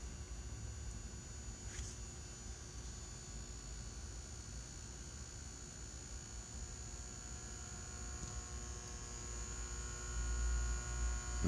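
A Xantrex Freedom 458 battery charger gives off a steady electrical mains hum with a faint buzz, low and even, swelling slightly louder near the end as it ramps up.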